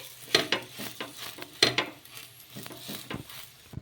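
Paratha frying in oil on a pan, turned and cooked on both sides: soft sizzling under repeated scraping and clinking of a spatula against the pan, with a few sharper taps.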